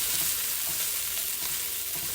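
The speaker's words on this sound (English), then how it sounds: "I'm gonna toss my onions around." Onions sautéing in a pan for beef and broccoli, a steady close sizzle with soft stirring and tossing noises, no voices.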